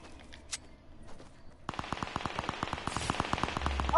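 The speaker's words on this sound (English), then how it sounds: "Oh my god, I just got sniped." Gunfire in the Fortnite video game, a sudden loud burst of rapid repeated shots after a quiet stretch, continuing steadily with game effects around it.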